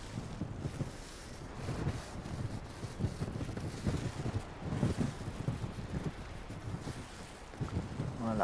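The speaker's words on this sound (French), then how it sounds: "Le vent se lève doucement." Wind rises in the mountains where a painter works outdoors in the cold, roaring and buffeting against the microphone in steady, gusty waves.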